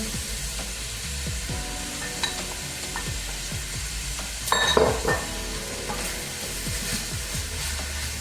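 Diced tomato and mushroom frying in a pan at home, a steady broadband sizzle with repeated scraping stir strokes and a brief louder clatter midway, close and continuous with no talking.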